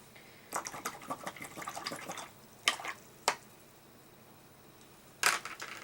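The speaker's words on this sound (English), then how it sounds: "I'm going to wash this brush out" A paintbrush rinsed out in water after acrylic painting: soft repeated swishing and dripping, then a few sharp taps of the brush against the container, fairly quiet.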